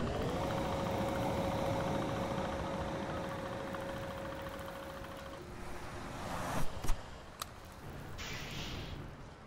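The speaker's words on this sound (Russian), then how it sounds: "Включаю пылесос." A vacuum machine in the video game Far Lone Sails hums as a steady mechanical drone with a sustained tonal whine, then shifts pitch and is broken by a few sharp clanks near the end.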